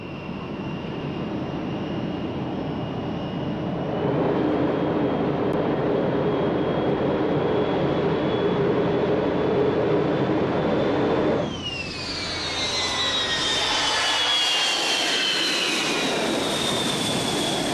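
Avro Vulcan XM655 bomber jet engines during a 1998 fast taxi, a loud steady roar with a whine that surges and sweeps upward near the end as the engines spool and the aircraft moves past.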